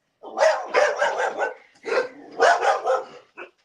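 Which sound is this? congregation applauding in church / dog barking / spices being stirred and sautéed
dog barking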